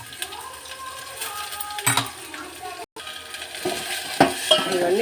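Tamarind pulp frying in a tempering with curry leaves and asafoetida, a soft continuous sizzle with occasional scraping and clinking of a spoon against the pan.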